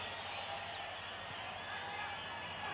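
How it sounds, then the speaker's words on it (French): A stadium crowd at the 1973 France v Denmark international friendly football match, giving a steady, distant wash of applause and crowd noise that holds evenly throughout. "Le public applaudit"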